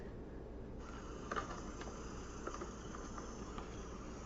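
Crickets chirp steadily through a night scene, a faint continuous insect trill with a few brief louder chirps standing out over low background hiss.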